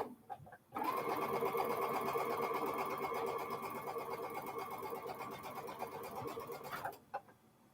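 Sewing machine stitching through layered quilting fabric, a fast steady mechanical whir running about six seconds after a brief pause, then stopping abruptly.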